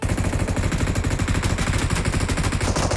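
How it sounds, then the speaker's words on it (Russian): Sustained rapid machine-gun fire from a DP-28 in PUBG Mobile, Metro Royale mode: a dense, loud, unbroken stream of shots with a steady rhythm, close and alone with no talk. "будем стреляться, конечно же, с ДПшки"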